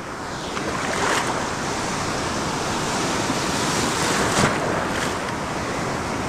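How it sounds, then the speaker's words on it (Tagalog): Loud, continuous crashing surf on the Palawan coast, heavy waves rushing and breaking close by with wind noise, no voices. "Mamaw yung alon oy."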